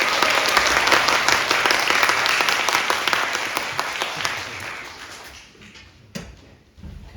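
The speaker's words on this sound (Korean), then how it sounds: "큰 박수와 환호 부탁드립니다" Loud, dense applause from an audience at a university physiotherapy department's academic event, sustained for several seconds before fading out, followed by a single sharp knock and quiet room noise.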